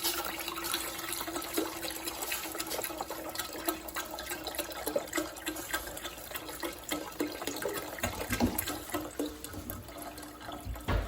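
Water runs from a tap into a large soup pot, a continuous rushing, splashing fill that stays loud and steady throughout with no voices.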